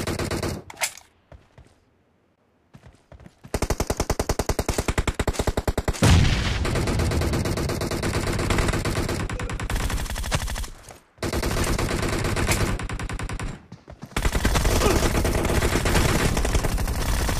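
Sustained automatic gunfire in PUBG team deathmatch, loud rapid bursts running almost continuously with a few short pauses and one quiet gap near the start.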